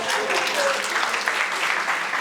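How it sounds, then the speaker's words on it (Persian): Students in a school audience clap together at moderate loudness, a continuous patter of many hands with some murmured voices underneath. "سیفی رو هم تشویق کنید"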